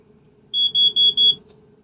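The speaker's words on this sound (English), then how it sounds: "A passenger has just caused the alarm to go off," A walk-through metal detector at a maritime security screening sounds four quick high-pitched electronic beeps in a row, loud and clear over a faint low hum.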